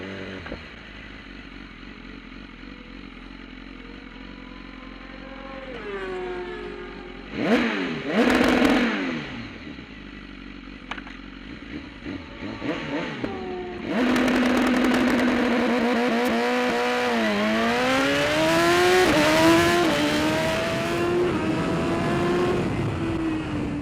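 Motorcycle on Bridgestone Battlax V02 racing tires using launch control, engine idling and blipping, then a loud hard launch with rising revs and gear changes continuing close by.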